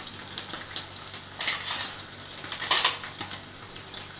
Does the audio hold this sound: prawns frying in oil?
yes